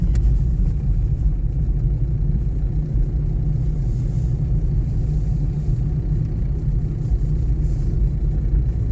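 Steady low engine rumble and road noise come from a car driving slowly along an unfamiliar rural road in the Polish countryside, heard from inside the car with no talk.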